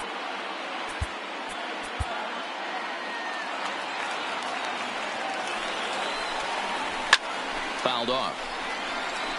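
Crowd noise at a virtual baseball game in MLB The Show 19, a broad steady roar of a stadium audience under a commentator's voice, with a few sharp bat or ball knocks.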